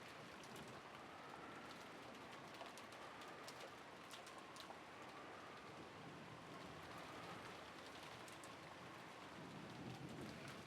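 Steady rain sound effect from the Umineko visual novel video game, a continuous even hiss of downpour with distant rumbles of thunder underneath, no voices.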